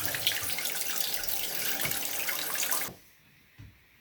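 Water rushes steadily from a supply line into a newly installed toilet tank, a loud continuous hiss that cuts off abruptly near the end, leaving near silence with a faint drip.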